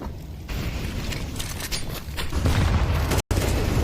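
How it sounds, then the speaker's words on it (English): A grenade blast followed by a flurry of gunfire during a professional Counter-Strike 2 match, loud and dense, with booming low rumble and crackling shots filling the moment. "Big nade."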